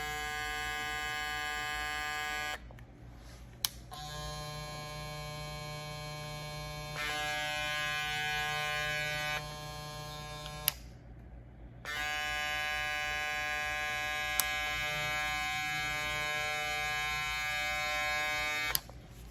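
A StyleCraft XErgo cordless hair clipper running, a steady high-pitched electric buzz with a low hum underneath, switched off and on again so it runs in several separate stretches.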